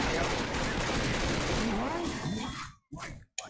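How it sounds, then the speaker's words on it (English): Dense pistol gunfire from dual-wielded pistols in the video game Left 4 Dead 2 rattles continuously for several seconds, then breaks into short separate bursts with gaps of silence, with voices faintly in the mix. "It's bad that I keep shooting you by accident."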